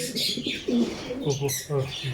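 Good-breed pigeons in a pigeon farm coo in several short soft phrases, near and clear, with a faint chirp among them.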